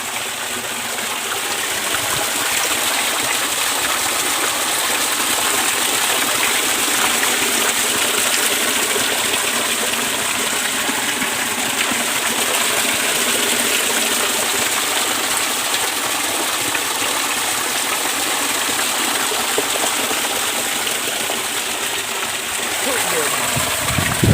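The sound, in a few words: water slapping and splashing in village stream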